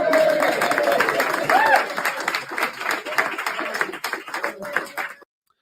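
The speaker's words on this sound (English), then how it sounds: "So can I ask you all, I know you just did it, but a round of applause for Elliot Allman." An audience at a talk applauds steadily, dense clapping that fades gradually over about five seconds before it stops, with a brief voice heard over it early on.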